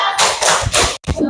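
A school class claps a rhythmic 'tepuk jempol' thumb-clap chant, several quick loud clapping bursts in a row with a short gap near the end, close and crowded.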